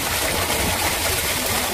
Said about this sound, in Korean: 물 흐르는 소리 좋다.